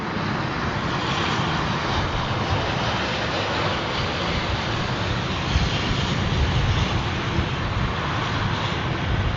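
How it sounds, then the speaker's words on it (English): Boeing 787 Dreamliner on a touch-and-go landing, heard as a loud, continuous, wind-buffeted jet engine roar that holds steady throughout with no voices. "As the plane touched down, the pilot realized it was not safe and performed a maneuver known as a touch-and-go landing."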